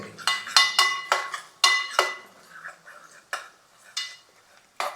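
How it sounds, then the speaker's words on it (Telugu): A spoon scrapes and clinks against a pan while curry is stirred, giving repeated sharp metallic knocks in an uneven rhythm, close and fairly loud with no talking. "ఇప్పుడు ఒక్కసారి కలుపుతాం చిన్నగా"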